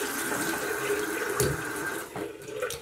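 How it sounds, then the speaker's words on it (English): Running water from a shower or tap pours steadily during a morning routine while a head is rinsed, with a constant hiss and splash that briefly shifts and thins near the end, and no talking. "Sometimes I dunk my head under the water to rinse this off"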